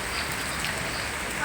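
Heavy rain pours down steadily in a dense, even hiss that stays loud and unbroken for the whole moment.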